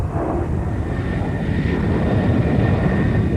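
Vampire T-Mark 55 two-seat jet trainer, ex-Swiss Air Force, performing at the Royal International Air Tattoo, its engine making a loud, continuous rushing roar that swells slightly toward the end.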